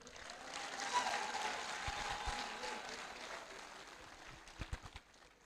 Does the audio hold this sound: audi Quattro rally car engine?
no